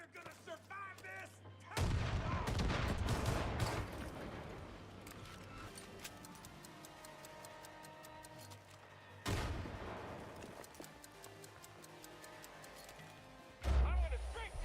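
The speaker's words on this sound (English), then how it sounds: "I'm gonna strafe these motherfuckers." Video game gunfire strafes targets, loud bursts of shots and explosive booms at the start, middle and end, with someone talking over the action.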